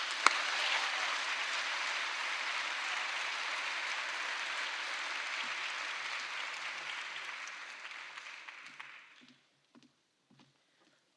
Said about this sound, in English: I hope Dave didn't steal all of the applause for the night.